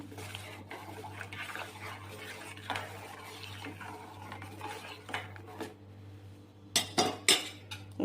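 Ice cream ingredients such as sugar and milk powder being mixed in a bowl with a spoon, soft scraping and stirring followed by a few sharp spoon clinks against the bowl, close and fairly quiet.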